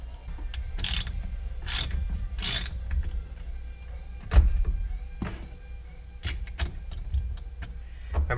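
A ratchet wrench with an extension clicks in quick, uneven bursts while loosening a car's steering wheel nut, with brief pauses and a few dull knocks between the ratcheting strokes.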